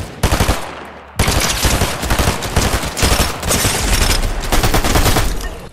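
Submachine gun fire in a video game, loud rapid bursts of automatic shots, a short pause after the first second and then near-continuous rattling volleys, close and dense with no talk over it.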